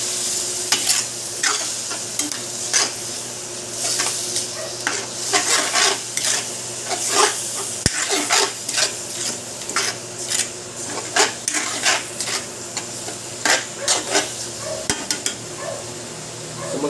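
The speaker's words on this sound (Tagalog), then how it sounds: "Ihalo lang." Pork menudo stirred in a pan over a steady sizzle, with repeated close scraping and tapping strokes of a utensil against the pan in an irregular rhythm throughout.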